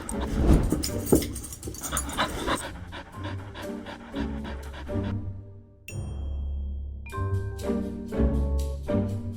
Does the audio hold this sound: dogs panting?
yes